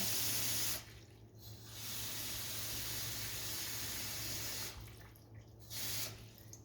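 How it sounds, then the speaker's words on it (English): Tap water runs steadily into a glass jar, a continuous hiss with a couple of brief breaks, fairly faint, no talking. "you are going to fill this jar with whatever you're fermenting and water"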